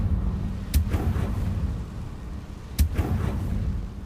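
Two sharp, booming blasts from the Confringo fire spell in Hogwarts Legacy, spaced about two seconds apart over a low, steady game ambience.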